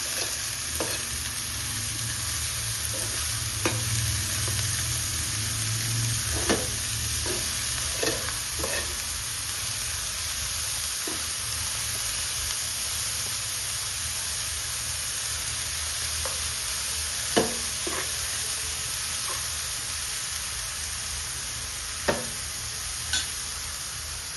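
Ginger garlic paste fries in a pan for pav bhaji, giving a continuous close sizzle punctuated by scattered clicks and taps from stirring, with no talking.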